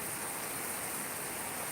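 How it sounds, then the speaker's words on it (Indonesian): Heavy rain during the rainy season in a small village pours down steadily as a dense, even hiss, loud and constant with no breaks or voices. "Di sini lagi musim hujan, hujannya lebat banget."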